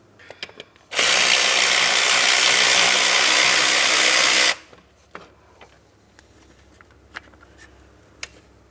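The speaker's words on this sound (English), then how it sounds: "We're going to fully remove the upper mounting bolts first" A power tool runs the upper brake caliper mounting bolt out on a 2004-2008 Pontiac Grand Prix 3.8L V6, making one loud, close, steady whirring burst of about three and a half seconds, followed by scattered faint metallic clicks and handling sounds.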